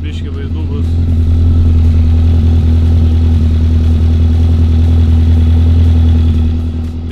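A motorcycle engine idles in a steady, low, even hum close by, with voices talking over it.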